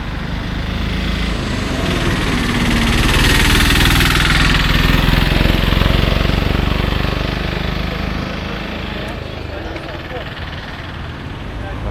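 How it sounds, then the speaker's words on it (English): A motorcycle engine drones continuously during a ride, a loud, close rumble mixed with rushing wind throughout, swelling slightly in the middle. "Riding the bike, enjoying the bike riding."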